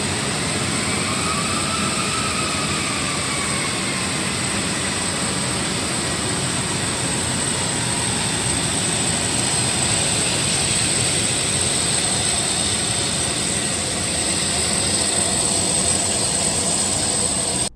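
Maryland Air National Guard military jets roar continuously as they are sent off, a loud, sustained engine wash with a high whine riding on top.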